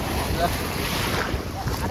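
Waves wash and churn near a boat during net fishing, a dense, steady rush of water mixed with strong wind buffeting the microphone.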